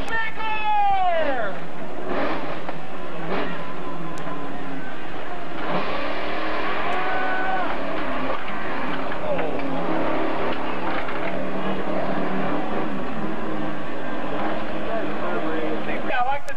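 A big-engined vehicle nicknamed Scrap Iron revs and roars through a 1998 mud run, the engine surging and rising in pitch under an announcer's voice and crowd noise.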